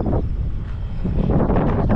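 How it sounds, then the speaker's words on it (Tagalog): Strong wind buffets the microphone in loud, low rumbling gusts that swell and roar continuously, close and overpowering. "Lakas ba naman ng hangin"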